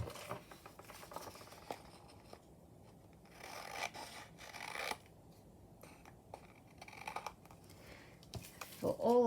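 Sheets of journal paper are trimmed along their tops, heard as close, intermittent rasping cuts and rubs in short bursts with pauses between them, ending in a brief squeak.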